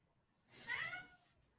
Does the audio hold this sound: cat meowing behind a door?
yes